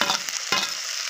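Freshly pounded ginger-garlic paste frying in a pan for street-style egg fried rice, giving a steady broadband sizzle with a brief stir or scrape partway through.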